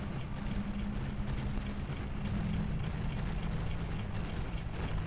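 Bombs detonate in the video game Zelda Ocarina of Time, a dense, continuous rumbling roar with debris-like crackle that stays loud and steady throughout.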